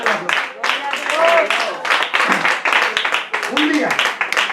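A church congregation claps and cheers in praise to God during a Spanish-language worship service, dense and continuous across the whole stretch, with voices shouting over the clapping.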